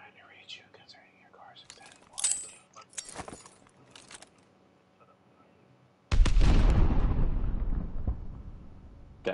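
A grenade blast in a console first-person shooter hits suddenly after quiet whispered talk and scattered clicks, a loud broad boom that rolls and fades over a few seconds.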